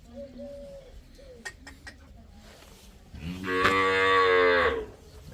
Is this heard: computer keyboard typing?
no